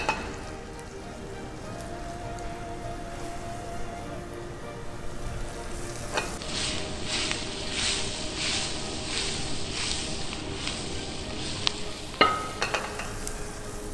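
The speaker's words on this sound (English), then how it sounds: "the garlic had started little sizzling" Garlic sizzles in a pan for a mushroom risotto, a soft steady hiss that swells and grows busier partway through as stirring adds light scraping, with a couple of sharp clinks near the end.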